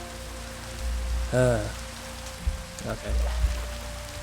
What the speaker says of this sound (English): I kind of want it to not be raining for it though.